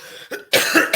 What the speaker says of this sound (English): still can't shift this cough I've had since about the start of December